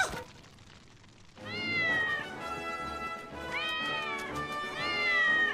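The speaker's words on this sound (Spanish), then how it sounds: "¡Un gato negro!" A black cat in a Spanish-dubbed Simpsons cartoon scene lets out a drawn-out, wailing meow followed by two more loud caterwauls, close and clear with little else around.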